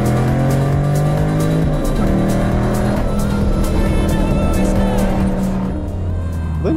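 Ford Mustang 2.3 with a tuned downpipe, its exhaust droning loud and steady up close, with shifts in engine pitch as it revs and settles, no speech over it.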